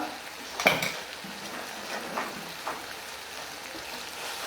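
Chana masala roasting in a pan while a spoon stirs it, soft scraping and sizzling with a sharp clink of the spoon near the start and a few fainter knocks afterward, quiet and close.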